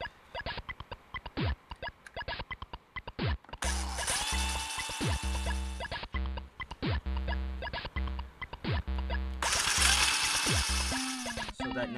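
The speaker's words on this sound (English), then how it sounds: "we're going to be drilling using the smallest drill bit" A small drill with its smallest bit runs in repeated bursts, whining on and off against a Game Boy DMG-01 hard plastic case, with clicks and handling noises between the runs.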